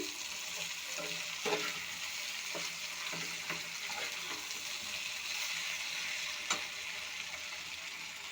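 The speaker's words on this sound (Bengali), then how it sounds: "সবজিটা আমি ভালো করে ভেজে নেব সবজিগুলো ভালো করে ভেজে নিয়েছি" Vegetables for a bitter-gourd chorchori fry in a pan with turmeric, giving a continuous oily sizzle with light scraping and knocks from stirring scattered through it.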